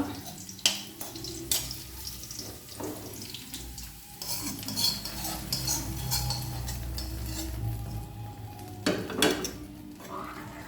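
A spoon stirs sesame payasam in a cooking pot, making close, moderately loud scraping and clinking against the metal, with sharp knocks near the start and end and a steady low hum underneath.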